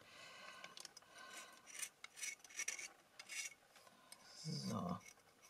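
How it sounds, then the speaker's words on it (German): Hand sanding of a small cast piece made with plaster casting powder gives a quiet, raspy scraping in uneven strokes of varying length, close to the microphone with a faint low bump near the end. "hier schleife ich das dann auch noch mal"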